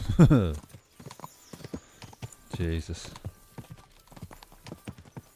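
Horse hooves clip-clop in a steady rhythm as a horse is ridden in the video game Kingdom Come Deliverance 2, with someone talking over the hoofbeats and a loud exclamation at the start.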